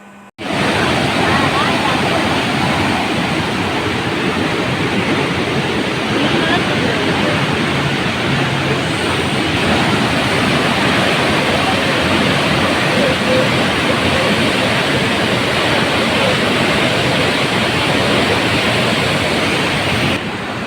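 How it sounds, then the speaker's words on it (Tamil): Heavy river water roars through the open shutters of the Mettur dam barrage during a flood release of 100,000 cubic feet into the Kaveri, a loud, unbroken rushing wash with no voices. "அந்த சட்டரை ஓப்பன் பண்ணி இருக்கிற வழியில் தண்ணி பார்த்தா எவ்வளோ ஸ்பீடு போயிட்டுருக்குது"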